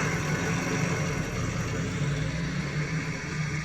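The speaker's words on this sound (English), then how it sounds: "Now I'll start the engine." A tractor engine in Farming Simulator 19 runs with a steady low rumble, holding an even idle throughout with no talk over it.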